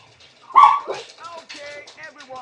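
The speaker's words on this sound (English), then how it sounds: "Barking animals." Dogs bark in the Fighting Cup video game: a loud close bark followed by a run of shorter yips and whimpering barks, all packed into a brief burst.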